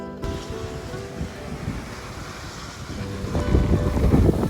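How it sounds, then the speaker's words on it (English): Waves wash ashore at Okuma beach in northern Okinawa while wind buffets the microphone, a steady rushing roar that swells toward the end. "let's go check out the beach here at Okuma"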